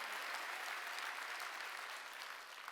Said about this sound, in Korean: 박수 치라는 거야.